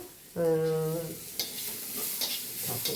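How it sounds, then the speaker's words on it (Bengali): Onion, garlic and green chilli frying in a pan, a soft sizzle with stirring and spatula scrapes, close and fairly quiet; a brief tonal hum cuts in early on. "পেঁয়াজ রসুন কাঁচা লঙ্কা সুন্দর ভাজা ভাজা হয়ে গেছে"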